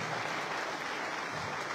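An audience at a political book presentation in Ascoli claps steadily, a dense, even wash of applause heard alone from start to finish.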